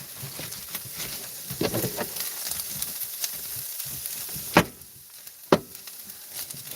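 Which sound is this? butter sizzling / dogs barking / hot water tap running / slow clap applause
butter sizzling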